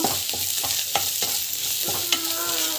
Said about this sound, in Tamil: முடிஞ்ச அளவுக்கு நல்லா வதங்கணும்.